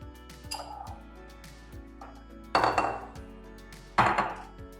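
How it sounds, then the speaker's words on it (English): Eight eggs whisked together in a bowl that is a bit too small, giving rapid clattering taps of a whisk against the bowl in short bursts with pauses, two louder flurries near the end, close and clear with no talking. "Eight eggs. So I'm going to whisk this together."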